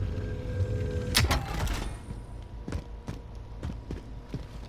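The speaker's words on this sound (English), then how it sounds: "I open this door to see if I can spot the bounty" A door opens in a video game with a loud burst, followed by several sharp, evenly spaced thuds like footsteps over a low background hum.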